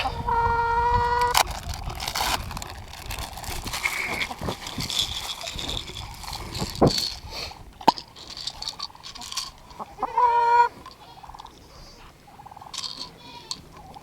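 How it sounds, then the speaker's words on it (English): Chickens clucking and squawking around a farmyard with goats, busy overlapping calls and a rooster-like tone, with shuffling and rustling nearby and short bursts of louder fowl cries. "Nosy chickens and goats."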